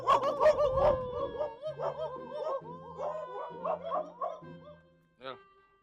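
People mimic barking dogs with their voices, producing a run of yelping, howling and whimpering barks, loud and close, with talking mixed in.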